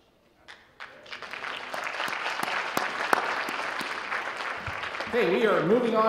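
A hall crowd at a superintendent's awards evening breaks into sustained applause for an honoured student, clapping swelling quickly and holding steady before a voice starts speaking over it near the end.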